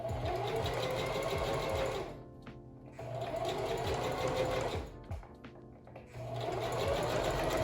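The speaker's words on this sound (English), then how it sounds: "So I'm going to change my machine to zigzag, hold the back threads, and line the elastic up with the edge of the fabric and just start sewing." A sewing machine zigzag-stitching elastic onto fabric runs in three steady, loud bursts of rapid mechanical whirring, separated by short pauses, close up with no talk.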